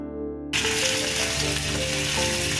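Cumin seeds, fenugreek and curry leaves hit hot coconut oil left over from frying fish. A short tonal note comes first, then a sudden loud burst of close, crackling sizzle that holds steady.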